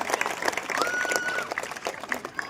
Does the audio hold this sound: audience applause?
yes